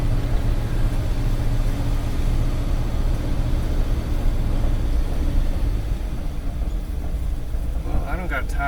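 A 1956 Cadillac Sedan DeVille engine runs at a steady low rumble close by, while someone talks over it.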